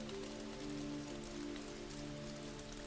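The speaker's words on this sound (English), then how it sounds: "comforting rhythm of the water hitting the leaves." Steady rain pattering on leaves and branches, a dense, even wash of droplets that holds at a constant moderate level throughout, with a faint low tonal hum beneath and no voices.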